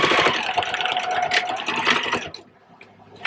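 A sewing machine stitches fabric a quarter inch from the edge, its motor whirring loudly and close with a fast needle chatter for about two seconds before stopping, leaving a quiet tail.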